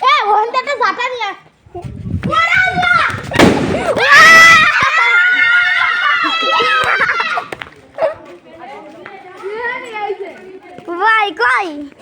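Firecrackers burst in a couple of sharp loud bangs amid excited children shouting and chattering nearby, the voices continuing between and after the pops.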